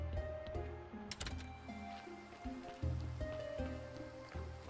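Rain in the video game Graveyard Keeper, a soft patter of drops under quiet looping game music with faint clicks and tones.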